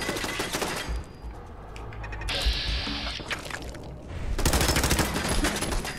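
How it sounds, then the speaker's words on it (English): A turret firing in Fallout 4: rapid bursts of automatic gunfire with mechanical clatter, loud in the opening second and again near the end, with a quieter stretch between. "This turret is a super asshole."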